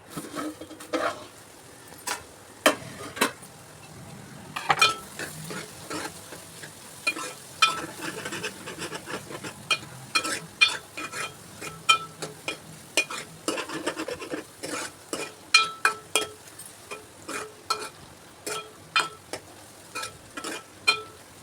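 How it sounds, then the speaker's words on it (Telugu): Onions frying in oil in a pan for a Telugu tomato egg curry, with a steady sizzle and frequent sharp scrapes and clinks of a spoon stirring against the pan, close and fairly loud throughout, no talking. "మనం ఆయిల్లో ఆనియన్స్ అనేది బాగా రోస్టెడ్గా మనం ఫ్రై చేసుకుంటే"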